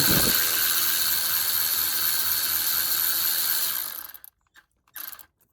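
A ratchet on an extension undoes a bolt on a 2006 Ford F250 with a 6.0L diesel, a loud continuous rapid clicking up close for about four seconds before stopping, followed by a few brief knocks.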